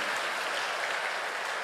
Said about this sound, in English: Give the Lord a hand clap of praise if you love him.